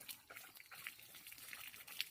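Golden, a pet dog, laps water in quick, faint, irregular wet splashes close by, with a few slightly louder slurps near the end.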